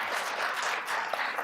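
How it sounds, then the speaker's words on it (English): A dense, steady patter of applause from an audience at a fair housing contest awards ceremony, a short burst of many hands clapping together, with no one speaking over it. "I'd give her a little round of applause"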